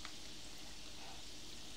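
Chicken pieces fry in hot oil for fried chicken pulao, giving a steady, soft, even sizzle that stays faint throughout, with no talking.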